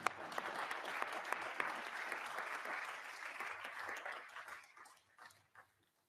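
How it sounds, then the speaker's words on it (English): Sustained applause fills a Council of Europe parliamentary assembly hall after an address by Ukraine's prime minister. The clapping is dense and steady, then thins and fades out over the last second or two. "And the applause"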